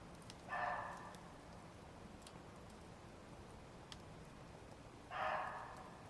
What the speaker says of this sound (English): There's the sound of a barking deer just behind the shelter.